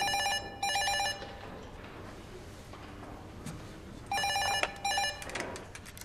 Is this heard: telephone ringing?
yes